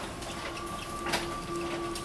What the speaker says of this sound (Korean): 복사기 돌아가는 소리가 들리는 거예요